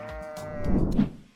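A single sheep gives one short, wavering bleat, close and clear, lasting about a second with nothing else around it.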